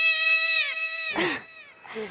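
A cat gives a single drawn-out, wavering meow in a comedy show, loud and close, followed by short bursts of talk.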